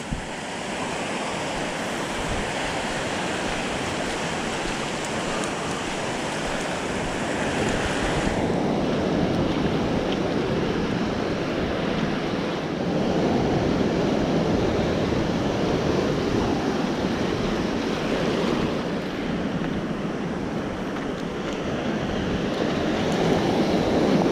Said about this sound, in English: Tide is going back.